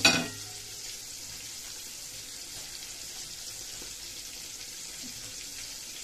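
Fish fries in very hot oil with a steady, close, hissing sizzle that runs throughout, opening with a brief louder burst of spattering.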